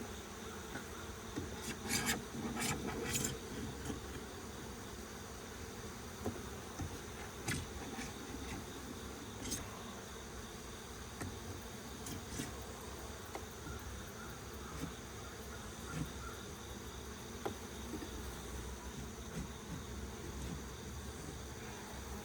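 Honey bees buzz around an open hive being split in North Carolina in August, a faint, steady hum with some rasping scrapes near the start and no talking.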